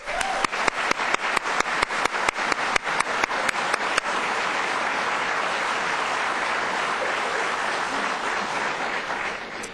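Audience at a county government State of the County address applauds a world music group: a few seconds of loud rhythmic unison clapping gives way to a dense, sustained wash of applause.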